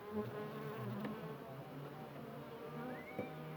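A steady insect buzz from many bees, a continuous droning hum with a few louder passes drifting close, no voices.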